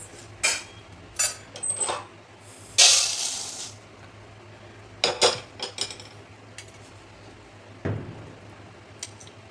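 Rice dry-roasting in a pan for chakli bhajani flour, heard as a few scattered metallic scrapes and clinks of a spoon against the pan, with one brief hissing rush, over a quiet background.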